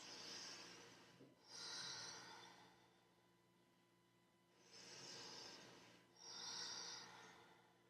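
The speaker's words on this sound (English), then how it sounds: "Two more deep breaths." Slow, deep breaths during a yoga pose: two long rounds of inhale and exhale, each with a breathy rush of air, heard close up with no talking.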